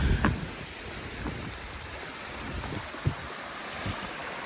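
A river in the fells near Helvellyn rushes steadily, a broad continuous wash of flowing water with some wind buffeting the microphone and no talk over it.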